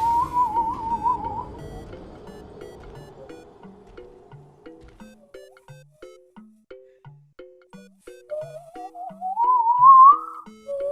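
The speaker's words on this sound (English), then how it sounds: "That's whistling with your hands." A shrill hand whistle slides and warbles at the start and again near the end, with a run of soft pinging tones in between.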